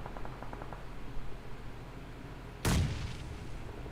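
Grenades exploding in PUBG Mobile, one sudden loud blast late in the moment after quieter faint popping and low background hum.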